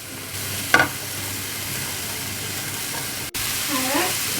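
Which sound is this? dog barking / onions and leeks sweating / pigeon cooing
onions and leeks sweating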